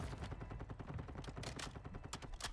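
Rapid bursts of automatic gunfire in Call of Duty Warzone rattle continuously for a couple of seconds, fairly quiet and distant-sounding, with no talking.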